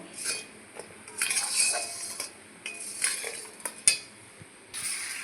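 Fried papaya pieces tipped into melted jaggery in a pan, with close utensil clinks and scrapes in irregular bursts and a soft, faint sizzle beneath, no voices.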